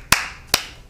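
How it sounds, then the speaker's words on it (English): Two sharp hand claps, about half a second apart, ring out in a quiet gaming studio during a PlayStation 4 launch stream, with no talking in between. "Round of applause."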